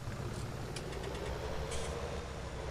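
A tractor engine idling in a farming game, a steady low rumble with a faint knocking pulse and a few light clicks over the top, holding level for the whole stretch.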